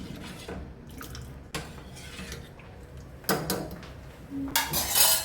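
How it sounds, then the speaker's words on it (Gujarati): Milk poured into cooked kheer in a pot and stirred, with clinks of a spoon against metal, sloshing liquid and scraping, the bursts growing louder toward the end. "દૂધ એડ કરી દઈશું થોડુંક હલાવી લઈશું"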